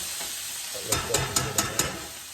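Bacon and onions frying in a hot pan, a steady close sizzle with a quick run of five sharp stirring scrapes through the middle.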